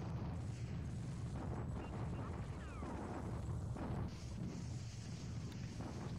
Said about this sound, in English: Japanese bombardment at Batavia.